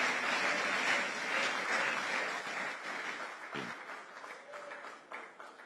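Sustained applause from an audience at the WAEC Distinction Awards ceremony honouring Ghana's top 2024 WASSCE students, dense steady clapping that slowly tapers off.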